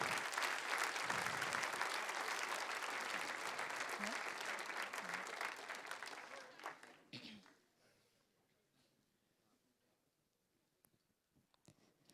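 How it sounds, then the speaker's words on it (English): At an award ceremony for a student biosensor competition, an audience breaks into sustained applause that holds steady for several seconds, then thins out and fades away into a quiet room. "So give them a big applause,"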